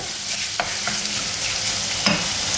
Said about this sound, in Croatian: Znači ovaj sistem miješanja radit ću konstantno dok se meso bude kržilo kako bi se ispržilo ravnomjerno sa svih strana.